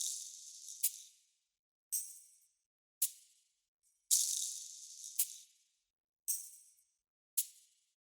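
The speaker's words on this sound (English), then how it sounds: "And then I have a perk and shaker loop." A percussion and shaker loop plays alone: crisp, bright rattling bursts strike in an uneven repeating rhythm, each fading quickly, with brief silences between hits.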